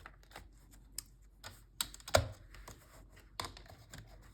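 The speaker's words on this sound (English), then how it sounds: "that's why I'm cutting a precise line here" Paper is cut along a precise line for a color-blocked junk journal, giving a close run of small, irregular snips and clicks with one sharper thump in the middle, and no one talks.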